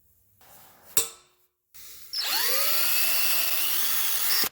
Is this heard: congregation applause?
no